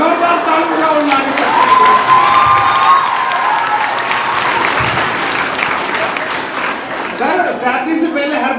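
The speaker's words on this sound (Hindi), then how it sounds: "जोरदार ताली बजाओ नानी।" A large audience claps loudly and continuously, a dense roar of applause mixed with crowd noise and some shouting voices throughout.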